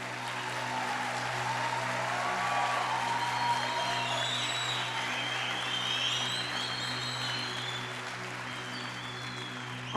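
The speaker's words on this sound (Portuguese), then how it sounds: "vamos dar uma salva de palmas para o pastor que vocês têm?" A church congregation applauds their pastor with sustained, dense clapping that holds steady for several seconds before easing slightly.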